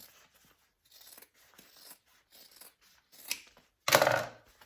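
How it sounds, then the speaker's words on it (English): Scissors trimming a fabric pattern piece, a series of small snipping cuts followed by a louder crisp scissor closure, close and quiet with short pauses between cuts. "So trim this top piece down."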